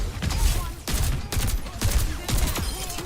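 Rapid automatic gunfire from the Overwatch video game rattles out in four or five loud, close bursts separated by brief pauses.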